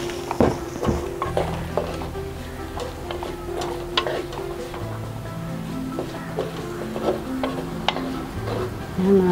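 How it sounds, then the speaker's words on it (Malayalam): Pineapple fish curry with tomatoes, Kerala-style with Malaysian touches, being stirred in a pan: repeated scraping and clinking strokes of a spoon against the pan over a steady low sizzle, close and moderately loud. "നന്നായി ഒന്ന് ഇളക്കി കൊടുക്കുക."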